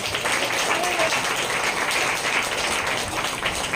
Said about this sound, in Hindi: जोरदार ताली बजाएं उस माँ के लिए।